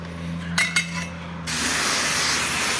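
High pressure water rinse at a self-service car wash, a sudden loud steady hiss of spray starting after a couple of brief clinks and a low hum.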